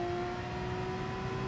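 A steady sustained engine tone from a Porsche race car in the Gran Turismo Sport video game, a constant high hum played alone at low level.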